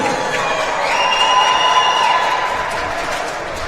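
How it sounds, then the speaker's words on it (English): At a Long Island Amateur Hockey League Midget 18 championship, a rink crowd cheers and applauds the runner-up Long Island Reynolds, a loud sustained roar with whistles and whoops ringing through it. "a round of applause for our runner-up, the Long Island Reynolds"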